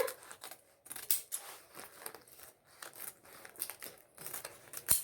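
Scissors cutting through a woven plastic rice sack, a series of close crisp snips and crinkling rustles at uneven intervals, fairly quiet with no talking.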